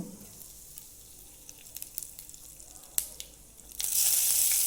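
Cumin seeds and curry leaves crackle in hot oil, with scattered pops and faint stirring giving way to a loud, steady sizzle near the end.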